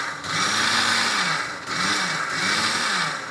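Mixer grinder whirring while blending homemade mayonnaise, a loud motor drone in three bursts with brief pauses between, pitch rising and settling as each pulse spins up.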